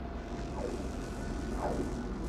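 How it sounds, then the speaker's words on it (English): A spaceship's pulse engine in the video game No Man's Sky roars as a steady, dense whooshing drone with faint rising sweeps, loud and continuous throughout. "Let's engage our pulse engine."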